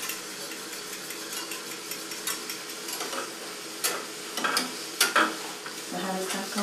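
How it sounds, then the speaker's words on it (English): Custard being stirred in a pan on the stove, with a continuous soft bubbling sizzle and repeated spoon scrapes and taps against the pan, several louder knocks clustering toward the end. "Keep stirring so there'll be no lumps."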